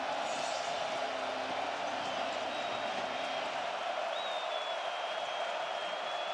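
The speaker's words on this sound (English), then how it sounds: "And this crowd is getting into it." Stadium crowd noise at a 2023 college football game between Wake Forest and Virginia Tech, a broad steady roar of spectators with a faint whistle-like tone drifting above it, continuous and distant-sounding.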